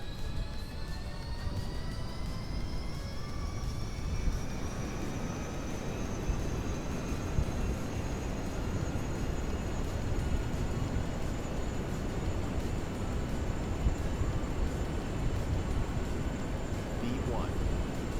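Aircraft engine spooling up for takeoff in Kerbal Space Program, a steady broadband roar with rising whine tones that holds loud and continuous throughout, with a voice talking over it.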